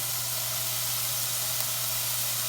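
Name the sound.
gondre greens stir-frying in perilla oil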